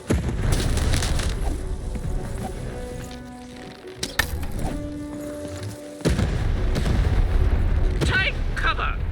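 Cannon blasts in the video game Lost in Random, booming bursts over a dense game soundtrack, with a sharp loud hit near the middle and heavier rumbling resuming toward the end.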